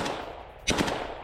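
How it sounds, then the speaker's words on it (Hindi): Gunfire in a face-to-face battle: a quick burst of shots cracks out over a dense, noisy background, with a brief louder volley in the middle of the short clip. "आमने सामने की जंग में ताबड़तोड़ फायरिंग।"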